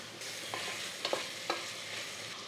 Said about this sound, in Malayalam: ഇരുന്നൂറ് ഗ്രാം തക്കാളി ഒന്ന് മിക്സ് ചെയ്യുക